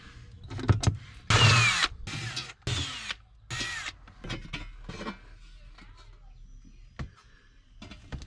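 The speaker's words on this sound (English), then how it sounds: "I have 1, 2, 3, 4 screws to get this plate off. So this is a T27." Power drill backing out T27 Torx screws from a battery hold-down plate during a lithium battery isolator install, several short close bursts of whirring and ratcheting with clicks and clatter between them.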